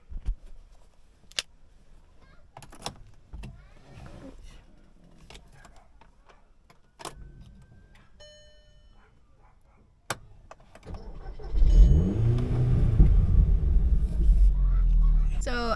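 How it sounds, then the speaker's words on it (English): A 2010 Audi TTS engine cranks and catches, then settles into a loud, deep, rumbling exhaust idle that continues steadily to the end, after several earlier clicks and thumps. "the car started really nicely. The exhaust, I am actually flabbergasted"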